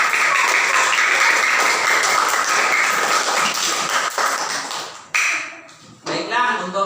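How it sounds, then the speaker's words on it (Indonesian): Classroom applause for a group of sixth-grade primary school students at a Muhammadiyah elementary school, a dense, sustained clapping from many hands that holds steady, then thins out and breaks into scattered claps toward the end. "Sekali lagi beri tepuk tangan untuk kelompok 2."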